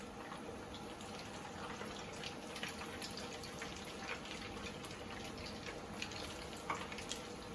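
Potato gems fry in hot oil, a faint, steady crackle and fizz with scattered small pops continuing throughout.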